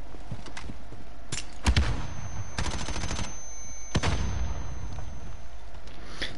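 Gunfire in a shooter video game, several sharp, loud cracks scattered over a constant rumble of battle noise, with one burst of rapid shots in the middle.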